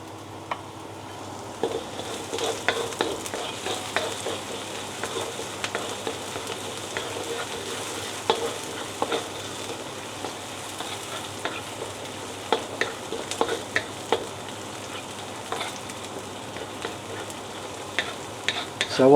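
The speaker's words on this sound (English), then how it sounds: "what we've pretty done is just a light saute of the spring onions and the garlic" Spring onions and garlic sizzle steadily in a pan while being stir-fried for Thai pad kra pao, a constant close frying hiss with scattered light scraping and stirring clicks, no talking.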